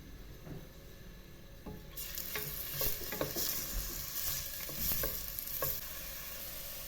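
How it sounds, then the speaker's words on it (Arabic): Chopped onions sizzle in hot oil inside a pressure cooker, a steady close hiss that swells as they hit the pan, with scattered crackles and stirring clatter and no voices. "غادي نضيف البصله، غنقلي شي شويه داك البصله"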